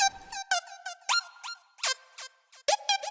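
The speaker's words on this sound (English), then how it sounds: "this guy up here, Portamento, sounds like this" Short synth notes glide upward into pitch with portamento, each sliding briefly before settling, played as a series of separate bright tones with gaps between them.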